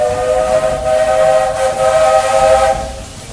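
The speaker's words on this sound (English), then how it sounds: "man, I love the whistle." Steam locomotive whistle on the Walt Disney World Railroad in the Magic Kingdom, one long steady blast held for about three seconds, loud and close with a breathy hiss under it.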